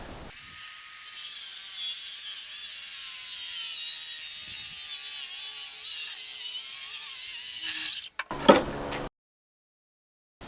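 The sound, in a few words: freehand rip-cutting a board in half with saw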